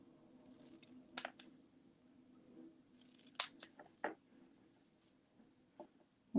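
Scissors cut paper for a layered handmade card, a few sharp snips spaced apart in a quiet room, each one crisp and close.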